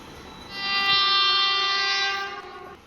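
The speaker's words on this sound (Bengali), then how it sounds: "ও সুপার ফাস্ট এক্সপ্রেস একদম পার হয়ে যাবে।" A superfast express passes in an Indian railway crossing simulator game, its harmonic horn blaring loud and sustained for about two seconds over a rumbling train, then fading.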